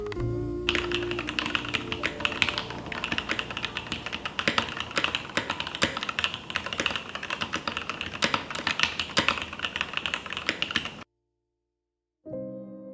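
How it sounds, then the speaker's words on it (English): Rapid typing on an Elephant custom mechanical keyboard fitted with soldered vintage black switches, dense, close and continuous clacking keystrokes that stop abruptly, with a short silence before a few final taps. "My soldered vintage blacks in the Elephant added a satisfying, almost addictive thok"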